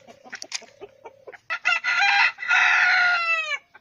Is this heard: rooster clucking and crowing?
yes